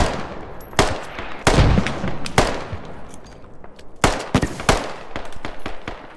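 Gunfire in the military shooter game Squad: sharp, loud shots and short bursts come at irregular intervals, some close and some rapid strings, over a rumbling battlefield background.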